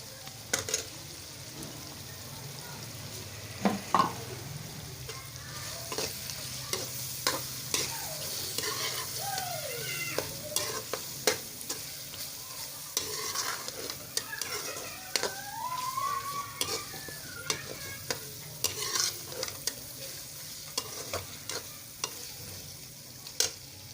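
Homemade paneer tipped into a hot pan and stirred, a steady sizzle with repeated clicks and scrapes of the spoon against the pan, close up and without talk.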